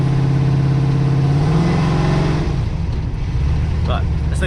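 An LS-swapped G-body car on 26-inch wheels drives with its V8 engine droning loudly up close, the pitch rising as it revs, then easing off as the car settles.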